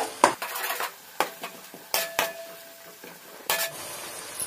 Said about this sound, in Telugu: అల్లం వెల్లుల్లి పేస్ట్ వేసుకొని పచ్చి వాసన పోయేంత వరకు వేయించుకోవాలి.